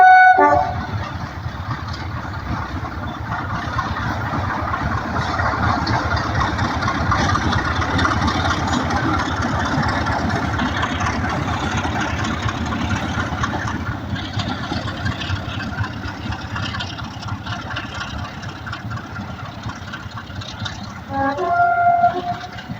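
A train on the East Lancashire Railway heritage line rumbles steadily past for a long stretch, a low continuous mechanical drone with a brief horn-like tone near the start and end.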